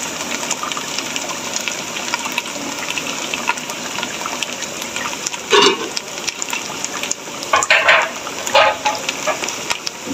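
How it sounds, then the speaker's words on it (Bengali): Coriander and cumin powder are stirred into a hot pan of chicken pulao, giving a steady sizzle and frying hiss with sharper scraping bursts from the spoon toward the end. "ধনে এবং জিরাটা দেওয়ার পরে আমরা এই অবস্থাতে আমরা আবার মিক্স করে দেব"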